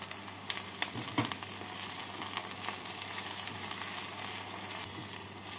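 Chopped onions with a pinch of salt fry in a pan until brown, giving a steady, close sizzle and crackle with a few sharper pops in the first second or two, and no voices over it.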